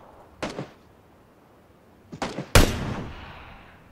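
Gunfire in PlayerUnknown's Battlegrounds: two short bursts of rapid shots, then a louder, sharper blast with a trailing echo, close and clear with no talk.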